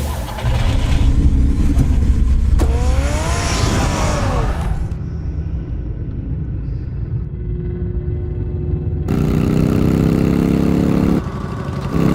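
Car engine revving and idling in the Batman Telltale Series video game, a steady mid-pitched rumble filling the scene at close range, alone with no talk, its tone shifting partway through.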